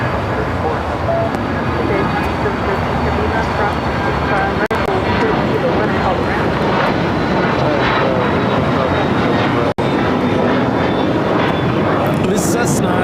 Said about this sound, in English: This Cessna 680A Citation Latitude taking off to Fort Collins at Jets 516.